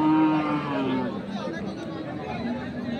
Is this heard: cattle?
yes